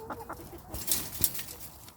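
Native Korean chickens on a farm give a few short clucks and calls, moderately close, with a louder burst in the middle and light rustling between.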